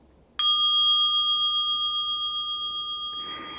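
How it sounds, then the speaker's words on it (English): A meditation bell struck once, ringing out clear and close with a bright metallic tone that sustains and slowly decays, followed by a faint rustle. "When you're visited by a thought, ring the bell."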